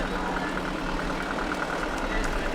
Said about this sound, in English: Tractor was bought from Oscar Osbjornson in 1918